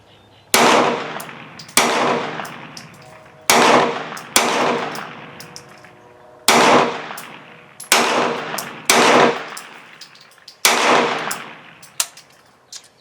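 Hi Point 995 carbine firing Blazer 115 grain aluminum case ammunition at an outdoor range: eight sharp, loud gunshots spaced about one to two seconds apart, each with a brief ringing decay and no talking.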